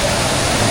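A small river near Bhimphedi, Nepal, rushes loudly and close by as a dense, unbroken wash of water noise.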